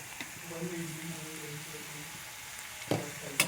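Onions fry in a pan with a soft, steady sizzle and a few sharp scrapes and clinks of stirring near the end, while a voice talks quietly underneath.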